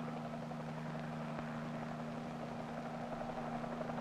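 An H-34 military helicopter flies steadily, its rotor and engine producing a constant droning hum at moderate distance with no voices.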